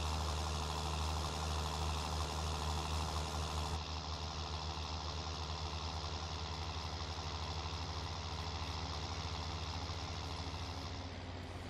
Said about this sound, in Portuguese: Ficou legal esse trator aqui no arado, hein?